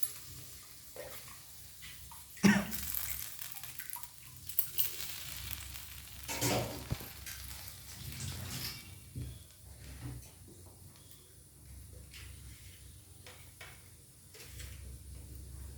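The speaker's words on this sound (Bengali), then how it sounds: "এখন দিয়ে দেবো যে সর্ষেটা বেটেছি, সেটা আমি ছেঁকে উপরে উপরে জলটা দিই" Strained ground-mustard water goes into a hot pan for a hilsa fish dish, bringing a soft, steady sizzle with a few pouring splashes and clinks of the pan.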